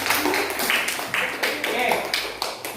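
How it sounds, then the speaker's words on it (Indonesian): Students in a classroom break into a short burst of applause, a dense run of hand claps lasting a few seconds with voices mixed in. "tepuk tangan"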